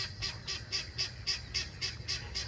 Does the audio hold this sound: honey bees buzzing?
no